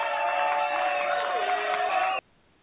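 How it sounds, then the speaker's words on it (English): A crowd applauds and cheers in a short, thin-sounding burst of clapping and whoops that runs about two seconds and then cuts off abruptly into near silence. "We deserve the applause, Austin."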